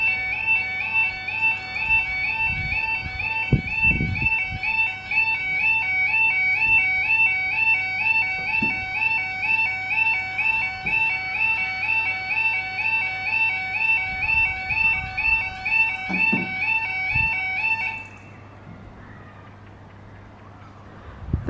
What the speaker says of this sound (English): There is nothing quite like the sound of a level crossing alarm.